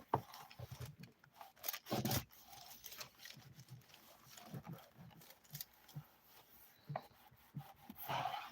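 Large scissors snipping through material at close range while making art, with a few short, dry rubbing cuts scattered across a quiet room.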